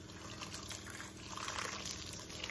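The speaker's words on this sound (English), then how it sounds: "And put some boiling water." Boiling water poured over salted ingredients for Nigerian edikang ikong soup: a steady, close splashing pour running the full length without speech.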